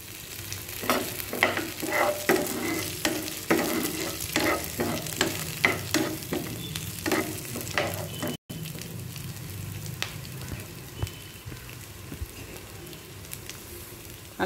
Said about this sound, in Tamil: நல்லா வதங்கட்டும் முந்திரி பருப்பு